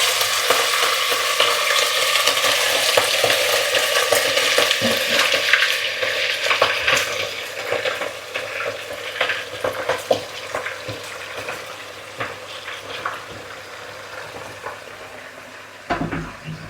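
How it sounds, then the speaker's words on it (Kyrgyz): Meat sizzling steadily in hot oil in a home kitchen pan, a dense close crackling hiss that fades gradually and continues alone without talk. "май ызып калды, ошо акырын эттерди салып алам"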